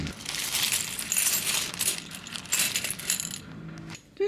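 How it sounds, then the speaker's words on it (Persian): Coins poured into a dish while setting a Persian Haft-Sin table, a dense metallic jingling cascade lasting about three and a half seconds before it settles into a brief quiet. "سیکه ها رو بریزم داخل این ظرف"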